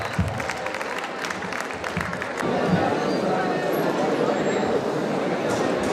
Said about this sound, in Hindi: जोरदार तालियों के लिए स्वागत करें श्री शहजाद पूनावाला जी का।